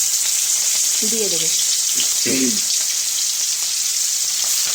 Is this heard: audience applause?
no